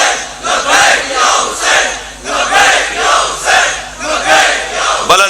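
A large religious gathering, probably a Muharram majlis in Pakistan, chants a response together in loud, rhythmic unison, with voices surging in repeated waves that fill the clip.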